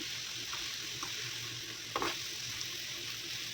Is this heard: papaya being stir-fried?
yes